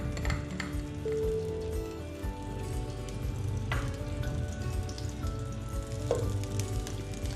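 Desi ghee melts and sizzles in a pan, a continuous close frying hiss with occasional light scrapes of a spoon or utensil against the metal; no voices.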